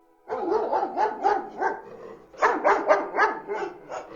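A dog barks in two quick bursts of several loud, close barks, used as a sound effect in a scary story, with no talking over it.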